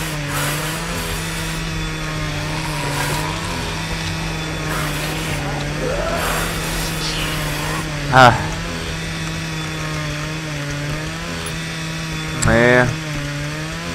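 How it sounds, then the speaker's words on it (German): A chainsaw in the video game How to Survive drones as a steady, loud motor hum through the whole stretch, with someone talking over it and brief sharp game sounds rising twice. "Und die Kettensäge."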